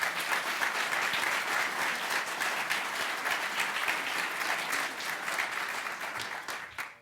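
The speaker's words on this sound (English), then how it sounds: "I hope you'll give them a round of applause" Sustained applause from an audience at a local hero awards ceremony, a steady mid-level patter of many hands that holds throughout and thins out at the very end.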